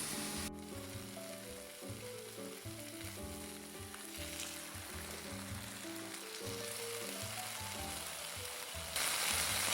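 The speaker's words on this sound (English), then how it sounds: "So I'm going to let this continue cooking until it is golden brown on each side." Chicken frying in a pan until golden brown, cooked for an open-face chicken sandwich, makes a constant soft sizzle beneath background music.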